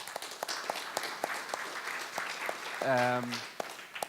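An audience at a security conference talk applauds, a steady spread of clapping throughout with a brief voice rising over it near the end.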